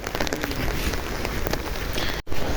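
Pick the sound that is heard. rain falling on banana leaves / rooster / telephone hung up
rain falling on banana leaves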